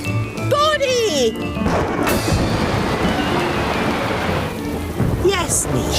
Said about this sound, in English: Look at that rain, Julian.